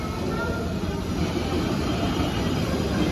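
Metro train heard from inside a crowded carriage: a loud, steady, unbroken rumble and rush that fills the whole stretch with no pauses.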